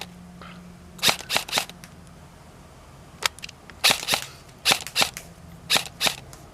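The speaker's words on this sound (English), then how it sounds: "That's why I mounted on airsoft gun, and I had some night shooting that I will show you." Airsoft gun fired outdoors at night, a series of sharp snapping shots, some in quick pairs and triplets, spaced across several seconds, close and distinct with no talking.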